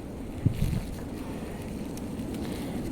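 Wind rushes and buffets outdoors, knocking over boxes, a low steady roar with a gusty thump near the start, and no voices.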